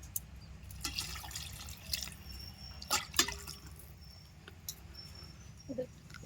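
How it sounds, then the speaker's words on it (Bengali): Water pours into a cooking pot for a village-style broken rice dish, heard as soft splashing and scattered drips with faint clinks over a low background hum, fairly quiet and close. "এবারে জল দিয়ে দেবো।"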